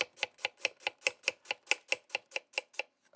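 Onion chopped on a cutting board with a knife: about fifteen crisp, evenly spaced taps in a quick steady rhythm, close and clear with no talking.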